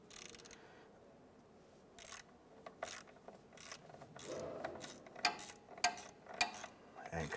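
Ratchet clicks from loosening a bolt on a 1997-2006 Jeep Wrangler during leveling kit work, starting sparse and turning into louder bursts of ratcheting with metallic rubbing toward the end, close to the microphone with no talk.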